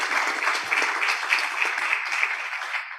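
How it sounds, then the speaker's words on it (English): An audience at a scientific seminar applauds with steady, dense clapping that stays fairly loud throughout and tapers slightly at the end. "I think that we can applaud for them."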